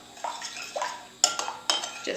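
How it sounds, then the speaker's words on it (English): Spoon stirring oven fried chicken ingredients in a bowl, giving a few distinct clinks and scrapes against the dish at irregular intervals, close and moderately loud with no talking. "now using a spoon, I'll just make sure everything's stirred and mixed together."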